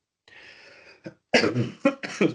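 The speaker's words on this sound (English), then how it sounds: "Sorry for my bad cough." A harsh cough rings out, preceded by a raspy exhale, then two or three more quick, forceful coughs close to the microphone.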